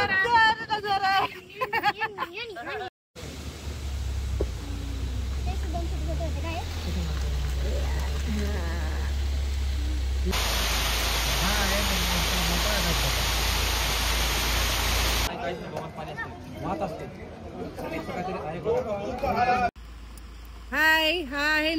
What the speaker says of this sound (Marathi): हाय, हा आहे नेकलेस वॉटरफॉल